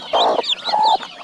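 Farmyard hens cluck close by near freshly hatched chicks, giving two loud drawn-out calls separated by a short gap, with no voices.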